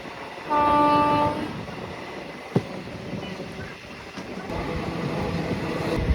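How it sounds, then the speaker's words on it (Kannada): A train horn on the Kuvempu Express passenger train gives one loud, steady blast of under a second over the constant rumble of the moving train, which then continues with a few clanks. "ನಮ್ಮ ಟ್ರೈನ್ ಸ್ಟಾರ್ಟ್ ಮಾಡಿದಾಗಿಂದ ಆಂಕಿಂಗ್ ಸೌಂಡ್ ಹಂಗೆ ಬರ್ತೈತೆ"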